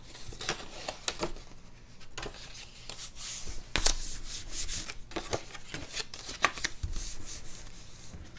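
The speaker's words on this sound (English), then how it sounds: "Now for our base layer, you're just going to fold the card in half." Cardstock being folded in half for a snow globe holiday card, heard as close, soft rubbing and creasing with a few crisp paper scrapes and light shuffles, without talk.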